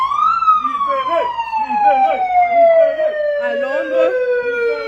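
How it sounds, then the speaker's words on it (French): A loud emergency vehicle siren on a London street outside the Gabon embassy during a protest, wailing in a slow descending tone close by, with people talking over it. "La sirène"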